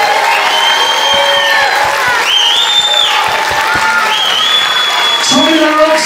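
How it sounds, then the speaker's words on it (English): Audience applause and cheering for two wrestlers at a live wrestling event, a steady crowd roar with tonal whistles or shouts rising above it, continuous and loud. "applause."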